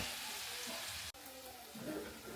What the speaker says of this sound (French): La friture